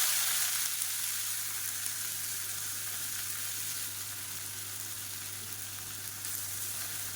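Chopped onions with fennel seeds frying in hot oil, a steady close sizzle with a faint low hum underneath and no talk.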